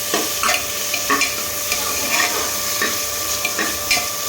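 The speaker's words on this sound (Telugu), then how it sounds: "పెట్టుకున్న మసాలా వేసుకొని కొంచెం వేగించుకుంటాం" Vegetables coated in masala fry and sizzle in a pan while being stirred, with steady frying hiss and repeated scraping stirs of a spoon close by, no talk.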